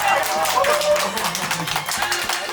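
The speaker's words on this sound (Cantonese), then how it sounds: "大家俾啲掌聲好嘛？" Crowd applause at a Chinese wedding ceremony, a dense, sustained patter of clapping that fills the whole moment, with voices and music mixed underneath.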